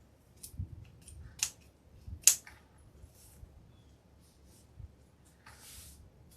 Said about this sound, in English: I am going to trim this elf shoe one a little bit, give it a little bit of a haircut